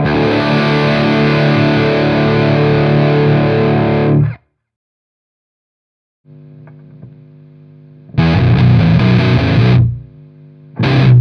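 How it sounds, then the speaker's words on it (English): Distorted high-gain electric guitar power chords through a Hughes & Kettner TriAmp Mark III amplifier ring out loud and then stop dead under a noise gate, followed by a quieter held tone and further abruptly cut chord bursts. "So turned up all the way, it's really useful for stopping high-gain power chords absolutely abruptly."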